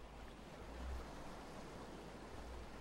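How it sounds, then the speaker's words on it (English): Ship-deck ambience from the game Kingdom Hearts: a soft, continuous wash of water and waves with a gentle swell near the middle, quiet and steady without speech. "I hear water"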